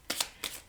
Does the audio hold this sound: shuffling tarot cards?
yes